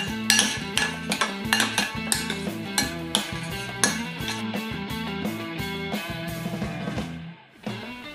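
Courgette noodle sauce is stirred in a bowl, with a spoon clinking and scraping repeatedly against the dish in a quick, uneven rhythm at close range, pausing briefly near the end.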